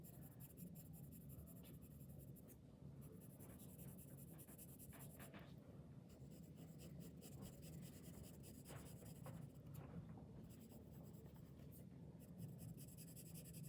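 Graphite pencil strokes on paper while shading a drawing study, faint close scratching that continues steadily with brief pauses and changes of direction over low room noise.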